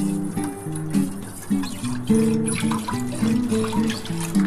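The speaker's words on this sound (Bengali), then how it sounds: "কড়ার মধ্যে আমি জল দিয়ে দিচ্ছি" Water is poured into a wok (kadai) to heat for boiling red lentils, a close, continuous splashing flow with shifting ringing tones as the pan fills.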